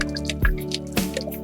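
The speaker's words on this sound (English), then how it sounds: "I'm gonna add some water into this, of course." Water poured onto potting soil for an avocado or lemon tree, giving two close, wet squishing splashes with soft gurgling in between, loud and short.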